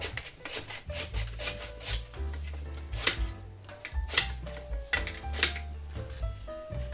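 A knife cutting large lengthwise slices from a banana held upright, making repeated close, crisp slicing and tapping strokes against a board, with no talk.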